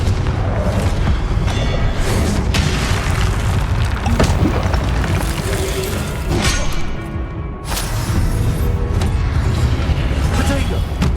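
A Confringo blasting spell explodes in Hogwarts Legacy, a loud, booming burst with crackling debris amid dense game combat noise and layered whooshes and impacts that carry on continuously, with a brief dip near the end.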